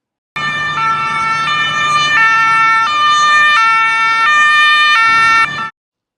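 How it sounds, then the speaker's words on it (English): Two-tone ambulance-style emergency siren played back loud and clean, alternating pitch roughly every second for about five seconds, then cutting off abruptly, no voices. "And now I will play some siren sounds and then we'll see how the model reacts."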